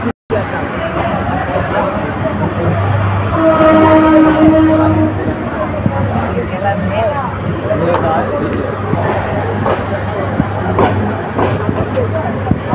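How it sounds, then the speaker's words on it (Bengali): The Kishoreganj Express passenger train rumbles steadily out of Bajitpur railway station with a low droning engine, a horn-like tone partway through, and murmuring voices around it. "কিশোরগঞ্জ এক্সপ্রেস ট্রেনটি বাজিতপুর রেল স্টেশন ছেড়ে যাচ্ছে"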